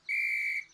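A single short, shrill toy whistle blown once, a clean steady tone lasting under a second, close and fairly quiet.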